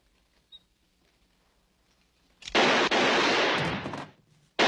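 A gunshot in a western film saloon bursts out loud and sudden after a quiet stretch and rings on for nearly two seconds before cutting off.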